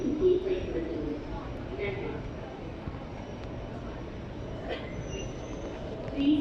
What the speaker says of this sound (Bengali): এই মেট্রো রেল চলে আসছে ভাই। আমাদের মেট্রো চলে আসছে।